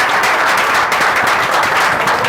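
Audience applause filling a hall at an Indian Army career talk, a dense, steady wash of clapping held loud and continuous for a couple of seconds with no break.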